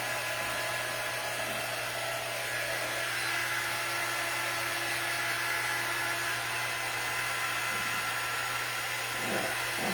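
A hair dryer drying paint on a spring cloche project runs as a constant loud whooshing hum with a steady motor whine, unbroken throughout and with no talking.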